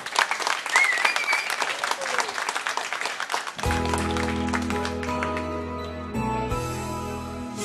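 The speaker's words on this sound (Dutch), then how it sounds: "Geeft nog een daverend applaus" Studio audience applause on a regional Limburg TV programme, clapping with some voices for about three and a half seconds before music with a sung Christmas song takes over.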